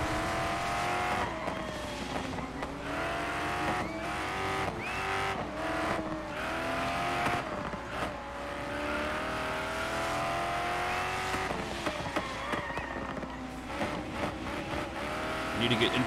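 Racing car engines roar continuously in the Dirt 5 video game, an Aston Martin V8 Vantage GT4 among them on a rainy Brazil track, revving rising and falling as gears shift, with a few tire squeals over the steady din.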